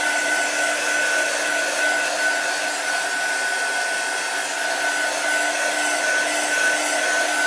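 A hair dryer blows steadily and loudly on a chalk craft project to dry it, a constant close whoosh with a faint whine that never lets up, alone with no voices.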